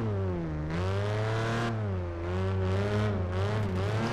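Race car engine in Project Gotham Racing 4, a loud, close revving whine rising and falling through several accelerations with clear harmonic tones.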